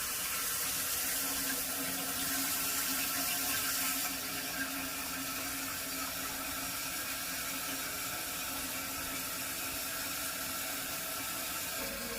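Water runs steadily into a newly installed toilet as it refills, a continuous broadband hiss and rush that stays fairly quiet throughout with no voices.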